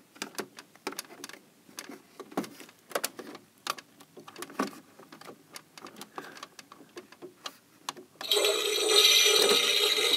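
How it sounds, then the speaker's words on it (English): A small toilet flushes with a sudden loud rush of water that cuts in after a stretch of quiet clicks and ticks, then fills the end of the clip steadily. "Toilet flushes."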